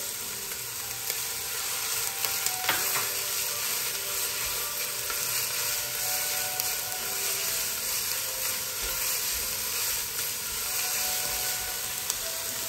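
Celery and onions sauté in a pan for lasagna from scratch, giving a steady close sizzle and hiss with occasional light stirring clicks, without any talk.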